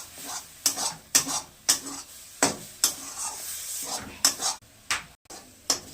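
Katuya datar greens, boiled and ground into a paste with a pinch of sugar, being stirred and fried in a pan; a spatula scrapes and taps the pan in repeated close strokes over a soft sizzle.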